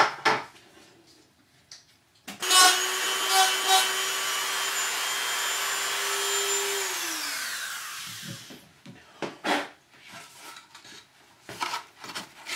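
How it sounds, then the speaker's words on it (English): A Dremel rotary tool grinds away a small block on a model helicopter nacelle, a loud steady high whine that starts abruptly, holds for several seconds, then winds down, with faint handling noises before and after. "I'll do that with the Dremel tool."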